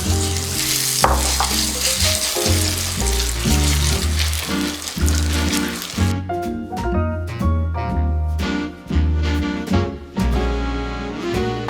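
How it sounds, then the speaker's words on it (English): Zucchini pancakes made with gluten-free flour and salt fry in a pan at home, a loud, steady, close sizzle with occasional stirring clatter and no talking. "I'm going to fry them into pancakes."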